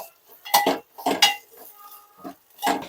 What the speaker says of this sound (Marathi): हे सगळं व्यवस्थित मिक्स करून घ्यायचं